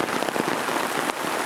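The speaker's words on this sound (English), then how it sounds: "It's been raining for a little bit." Steady rain drums on a 10x12 tarp shelter in the woods, a dense, close patter of drops with occasional heavier splats, continuous and even throughout with no voices.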